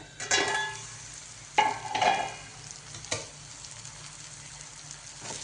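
Ridge gourd chutney cooking over a low gas flame, with soft stirring scrapes and a faint, steady sizzle; a few louder clatters of the spoon against the pan stand out, and nobody talks.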